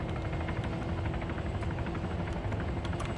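A helicopter flies in the video game Arma 3, giving a continuous loud rotor drone with a steady rumbling, chopping texture that never lets up.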